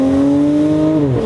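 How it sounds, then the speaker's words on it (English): Supercharger whine from an air-suspended Audi SQ5 with a supercharged V6, a loud steady high-pitched tonal whine over engine drone that holds level and then drops in pitch near the end as the engine eases off. "It's a supercharged V6. So you get a lot of supercharger whine outside of the car"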